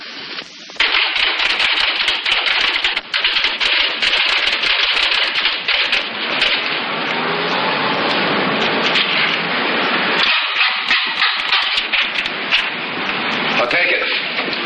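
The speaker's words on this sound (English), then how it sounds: "I'll purchase this electric typewriter" An electric typewriter types in a rapid, dense clatter of keystrokes, loud and nearly continuous, with only brief pauses.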